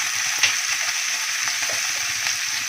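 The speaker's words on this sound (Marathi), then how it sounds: "एकसारखं मिक्स करत राहायचं." Steady sizzling with soft scraping stirs as spices such as turmeric, coriander and cumin powder, kasuri methi, salt and fennel are mixed into a stuffed tomato vada mixture, continuous and close.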